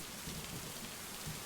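Rain pours steadily in a stormy scene of the video game Lake, a soft continuous patter with low rumbles of thunder rolling faintly underneath, quiet and distant.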